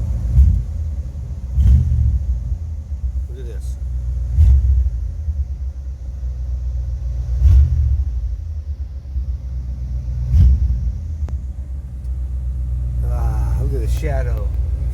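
A warmed-up 1973 Dodge D100 pickup idles with a deep, steady rumble that swells in regular pulses, while someone talks nearby.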